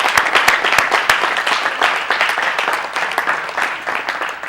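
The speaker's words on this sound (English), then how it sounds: "Give Mr. Hood a hand clap." A standing congregation at a live-streamed service claps by hand, sharp individual claps scattered and overlapping in an irregular, lively patter that keeps going throughout.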